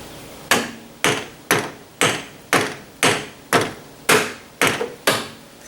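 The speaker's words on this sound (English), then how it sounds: "I'm going to get a little hammer just to give it a little quick tap." A small hammer taps a tractor battery terminal on a John Deere 300 series tractor: ten sharp, evenly spaced metallic knocks about half a second apart, close and distinct with no talking.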